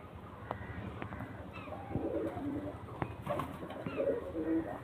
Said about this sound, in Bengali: তো চলেন আমি পায়রাগুলোকে শখ করাই